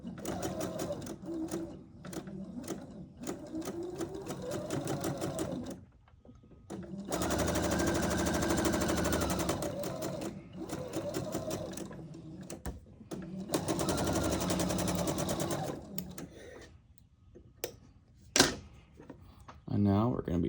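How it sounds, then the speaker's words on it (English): A sewing machine runs in several bursts while stitching a quarter-inch seam on quilt fabric at a stitch length of 2.0. The rapid mechanical whirring stops and starts, with quiet gaps and a few sharp clicks between runs. "I'm just going to sew a 1/4 inch seam"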